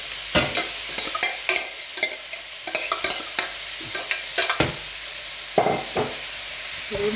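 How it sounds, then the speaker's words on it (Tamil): Beetroot and spinach sauté in a pan for a vegetarian curry while being stirred, a soft sizzle under repeated scraping strokes of the spoon in an uneven rhythm, close and without talk. "இதெல்லாம் நல்லபடியாக வதங்கி கொண்டிருக்குது."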